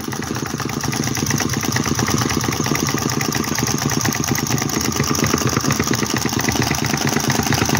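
Small handmade model Stirling or flame-licker engine built by a German engineer, running steadily with a fast, even mechanical chuffing and ticking rhythm, close and continuous with no talk.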